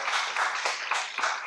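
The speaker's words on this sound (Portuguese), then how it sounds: "Palmas para a doutora, gente" Audience applause for a doctor at a medical conference on endocannabinology in Brazil: a short burst of close, rhythmic clapping from a small group, steady and fairly loud.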